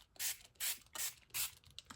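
Four quick bursts of a Dilutions spray bottle, close and hissy, with short gaps between, followed by faint clicks of the trigger.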